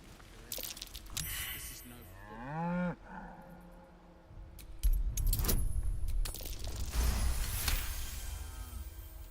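A cow moos in Baldur's Gate 3, a long rising-and-falling bellow standing out clearly against the game's background ambience and music.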